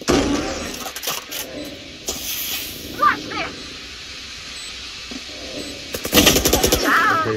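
Bursts of gunfire from the video game Valorant crackle in short clusters, the loudest near the end, with a voice speaking briefly between them.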